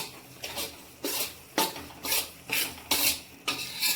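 Flour and mawa being stirred in a hot pan for winter adadiya pak, a spoon scraping the pan in steady repeated strokes, about one every half second, fairly quiet with no talk.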